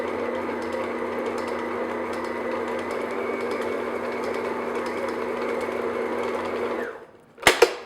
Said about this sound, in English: I'm just going to get a big mixer here, so. And then I'm just going to slowly mix this together just until it all comes together.